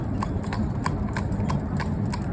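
Hooves of a cob pony driven in a soft rubber bit clip-clop in a brisk, even rhythm on a hard surface, close and clear over a low outdoor rumble.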